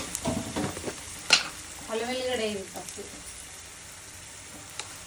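Onions frying in a pan with turmeric, stirred with short scraping clinks over a steady sizzle; a voice murmurs briefly in the middle.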